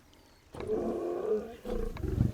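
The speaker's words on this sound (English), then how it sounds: "Panthera leo leo, or the West African lion to you and me." West African lion in the Planet Zoo video game: a deep drawn-out roar after a quiet start, followed by a second rumbling series of grunting roars, close and loud.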